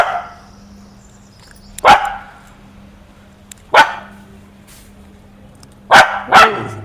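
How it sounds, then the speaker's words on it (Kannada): Jimmy, a pet house dog, lets out four sharp, loud barks, spaced a couple of seconds apart with the last two close together, over a steady low electrical hum. "ಬೊಗಳ್ತಾ ಇದೆ ನೋಡಿ."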